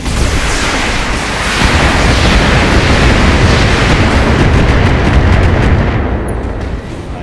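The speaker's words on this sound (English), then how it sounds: "Got SRM ammo, I'm gonna be able to explode it now." A loud, sustained roar of explosion and blast noise as SRM missile ammunition detonates inside a mech in the Battletech video game, dense and continuous for about seven seconds before tapering slightly at the end, with no talk.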